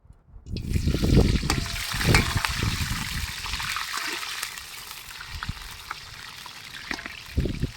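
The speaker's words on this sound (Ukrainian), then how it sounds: "150 грам е, масла, розігріваємо капітально, щоб воно нагрілося і додаємо українського сала, отакого гарненького." Ukrainian salo drops into well-heated oil, about 150 grams, sizzling with sputtering bursts early on that settle into a steady crackle with scattered pops.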